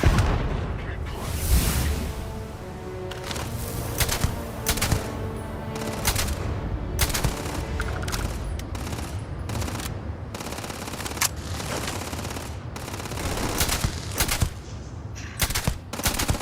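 Rapid bursts of sci-fi gunfire from a firefight in the space game Starfield, sharp repeated shots and volleys throughout with booming impacts, close and loud, with occasional game voices in the mix.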